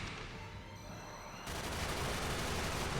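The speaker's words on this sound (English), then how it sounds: "She starts with the G-shot. The classic Gatling gun." Rapid Gatling gun fire from the G-shot special attack in Xenosaga III, a dense, loud, continuous burst of shots that grows fuller partway through.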